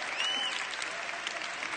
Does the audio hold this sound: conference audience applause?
yes